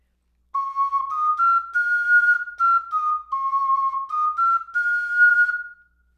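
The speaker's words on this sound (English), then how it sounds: "tilting forward slightly, can all help you get a better sound with the highest notes" An STL Florentine tenor ocarina plays a clear, breathy sequence of high notes, stepping up and down in a smooth stepwise melody, solo and close.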